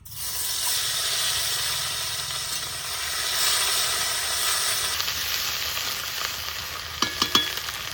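Onion paste sizzles loudly in hot oil, a steady close frying hiss that lasts throughout, with a few clinks of a spoon stirring the pan near the end.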